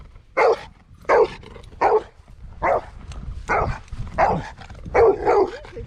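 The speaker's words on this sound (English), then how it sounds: "You're a good dog" A dog barks repeatedly outdoors near a village pool, seven or so loud, close, evenly spaced woofs with brief quiet gaps between them.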